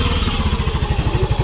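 A motorcycle engine idles close by at a market, running without a seat cover, with a steady low rhythmic chugging pulse that holds throughout and no talk over it.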